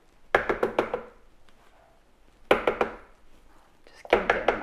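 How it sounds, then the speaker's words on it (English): Food processor pulsing chunks of butter with flour and oil for a vegan pie crust: three separate bursts of rapid chopping thuds, each about a second long, with quiet pauses between them. "I'm gonna pulse the mixture until it resembles sand."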